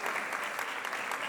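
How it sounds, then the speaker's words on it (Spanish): Seminar audience applauding an introduced panelist at an early-childhood conference, a steady dense wash of clapping from many hands, moderately loud and unbroken with no talk. "Fuerte el aplauso"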